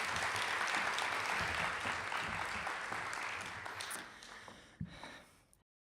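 Audience applause at a children's advocacy center storytelling event: a dense, steady wash of many hands clapping that gradually thins and fades out near the end.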